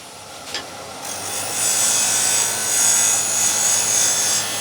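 A wood lathe spinning a turned box while a tool cuts a chamfer, producing a steady, close, bright scraping and hissing that swells slightly and holds for several seconds over the motor's hum.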